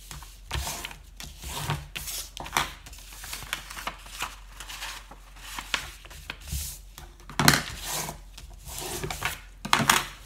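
Paper being folded along score lines to form a policy envelope: a series of close crinkles, creases and soft rubbing swipes, irregular and fairly quiet, with no talk.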